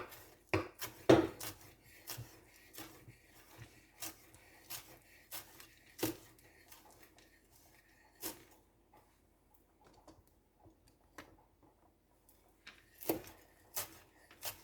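A knife chops fresh cilantro on a cutting board in a home kitchen, giving irregular, close knocks and taps in short bursts with pauses between them.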